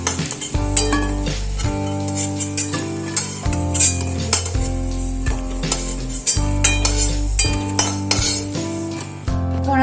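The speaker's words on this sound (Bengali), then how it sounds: "বড়াগুলো একে একে তুলে নিচ্ছি।" Metal ladle scrapes and clinks in a pan of hot oil as fried potato and pointed gourd fritters are lifted out one at a time, close and clattery, over a steady bed of loud music.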